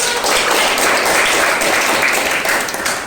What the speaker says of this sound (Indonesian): Iya, tepuk tangan dong dulu.